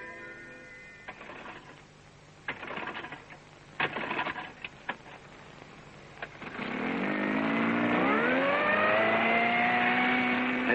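An outboard motor on a small boat ticks and sputters, then starts and rises into a steady, loud droning whine as it revs up.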